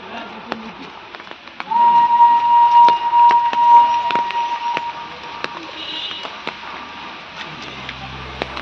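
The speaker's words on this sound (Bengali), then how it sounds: "ওদিকে টয় ট্রেন আওয়াজ দিচ্ছে" The Darjeeling toy train near Ghum gives a long, loud whistle blast, then fainter rumbling and clicks carry on from some distance in the hill setting.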